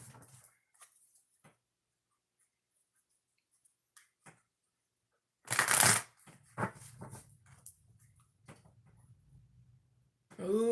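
A brief burst of cards being riffled and shuffled, loud and close, preceded by quiet handling clicks and followed by faint rustling.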